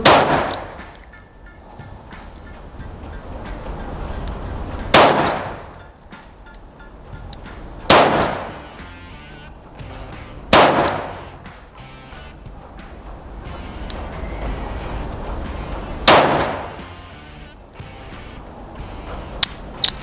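Four loud, sharp revolver shots from a 2-inch revolver fired double action on a range, spaced several seconds apart, each with a crack and short decaying ring over steady background hiss.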